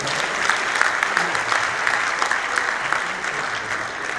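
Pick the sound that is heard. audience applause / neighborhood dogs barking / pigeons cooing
audience applause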